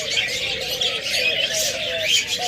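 Caged cockatiels, budgies, lovebirds and doves at a bird sale fill the air with a dense wash of close chirping and twittering, while a dove's soft, wavering coo runs steadily underneath.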